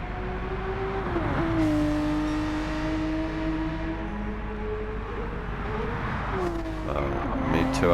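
A race car in Gran Turismo 7 at Bathurst drones steadily with a clear engine tone, dropping in pitch at each short shift up through the gears, loud and continuous throughout.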